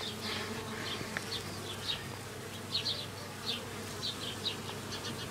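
Honey bees buzz steadily around a five-frame nucleus hive, a continuous near drone with individual bees flying close past at intervals.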